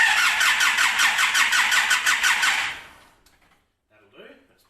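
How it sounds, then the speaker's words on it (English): Car engine cranking with the engine fuse pulled so it won't start, priming a newly fitted turbo; a steady rhythmic starter whir runs loud for about three seconds, then stops, followed by a brief voice. "And then you're going to crank it for a few seconds."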